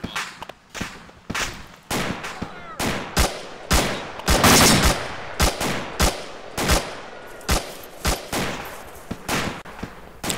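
An AI fire team in the Arma II military game trades gunfire: loud, sharp shots in irregular single cracks and short bursts, sometimes overlapping into a heavier volley, close and distant reports mixed.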